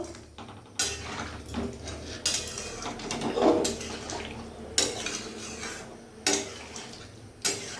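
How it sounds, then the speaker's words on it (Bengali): Metal cookware clatters in a kitchen as a lid goes onto a pot of boiling taro. Several sharp clanks and scrapes stand out over steady low background noise, with no voices. "এবার আমি ঢাকা দিয়ে দেবো আমার কচুটা যাতে সেদ্ধ হয়।"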